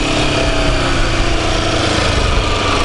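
Motorcycle engine held in first gear while riding, a steady loud drone filling the whole stretch without letup.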